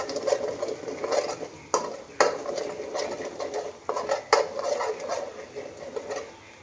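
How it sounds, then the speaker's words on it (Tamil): Ginger and garlic fry in a pan for chicken pickle, a continuous sizzle punctuated by sharp metallic scrapes and taps of a spoon stirring against the pan. "நல்லா ஃப்ரை ஆகிட்டே இருக்குது பாருங்கள்"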